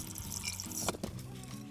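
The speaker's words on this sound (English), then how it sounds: "Wash our hands." Tap water runs and splashes over hands being washed in a kitchen, a short, soft trickle with a few drips.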